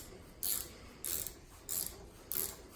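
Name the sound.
ratchet wrench turning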